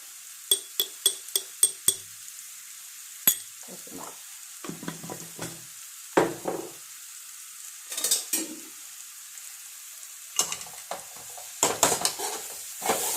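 Young jackfruit thoran being stirred in a frying pan: a spoon scrapes and clinks against the pan in quick repeated strokes, with pauses between bursts over a faint sizzle, close and clear.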